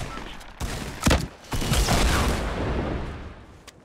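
Gunfire from players shooting at each other in a Fortnite squads match around a supply drop, a burst of loud shots and bangs with a dense, noisy roar of continued fire.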